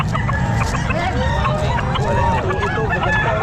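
Chickens and roosters at a busy pet market in Calumpit: loud, dense clucking and overlapping crowing from many birds nearby, continuous throughout, over a faint crowd murmur.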